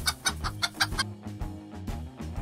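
A rooster like the silly Hei Hei from Moana gives a quick run of about six loud, sharp clucks, then a lower, steadier stretch of fowl sounds, close and alone.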